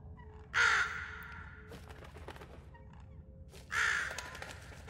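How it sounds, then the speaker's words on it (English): Two loud, harsh crow caws ring out about three seconds apart in the puzzle game The Room Three, each a short burst over a low ambient hum, with faint clicks between them. "Crows?"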